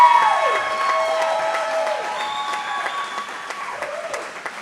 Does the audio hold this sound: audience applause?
yes